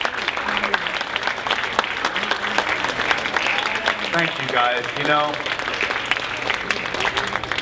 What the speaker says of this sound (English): we don't do this show for applause